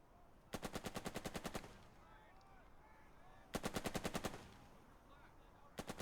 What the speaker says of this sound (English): Looks like a general purpose machine gun.